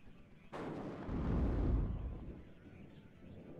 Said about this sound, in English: A lot of artillery in for Lathans.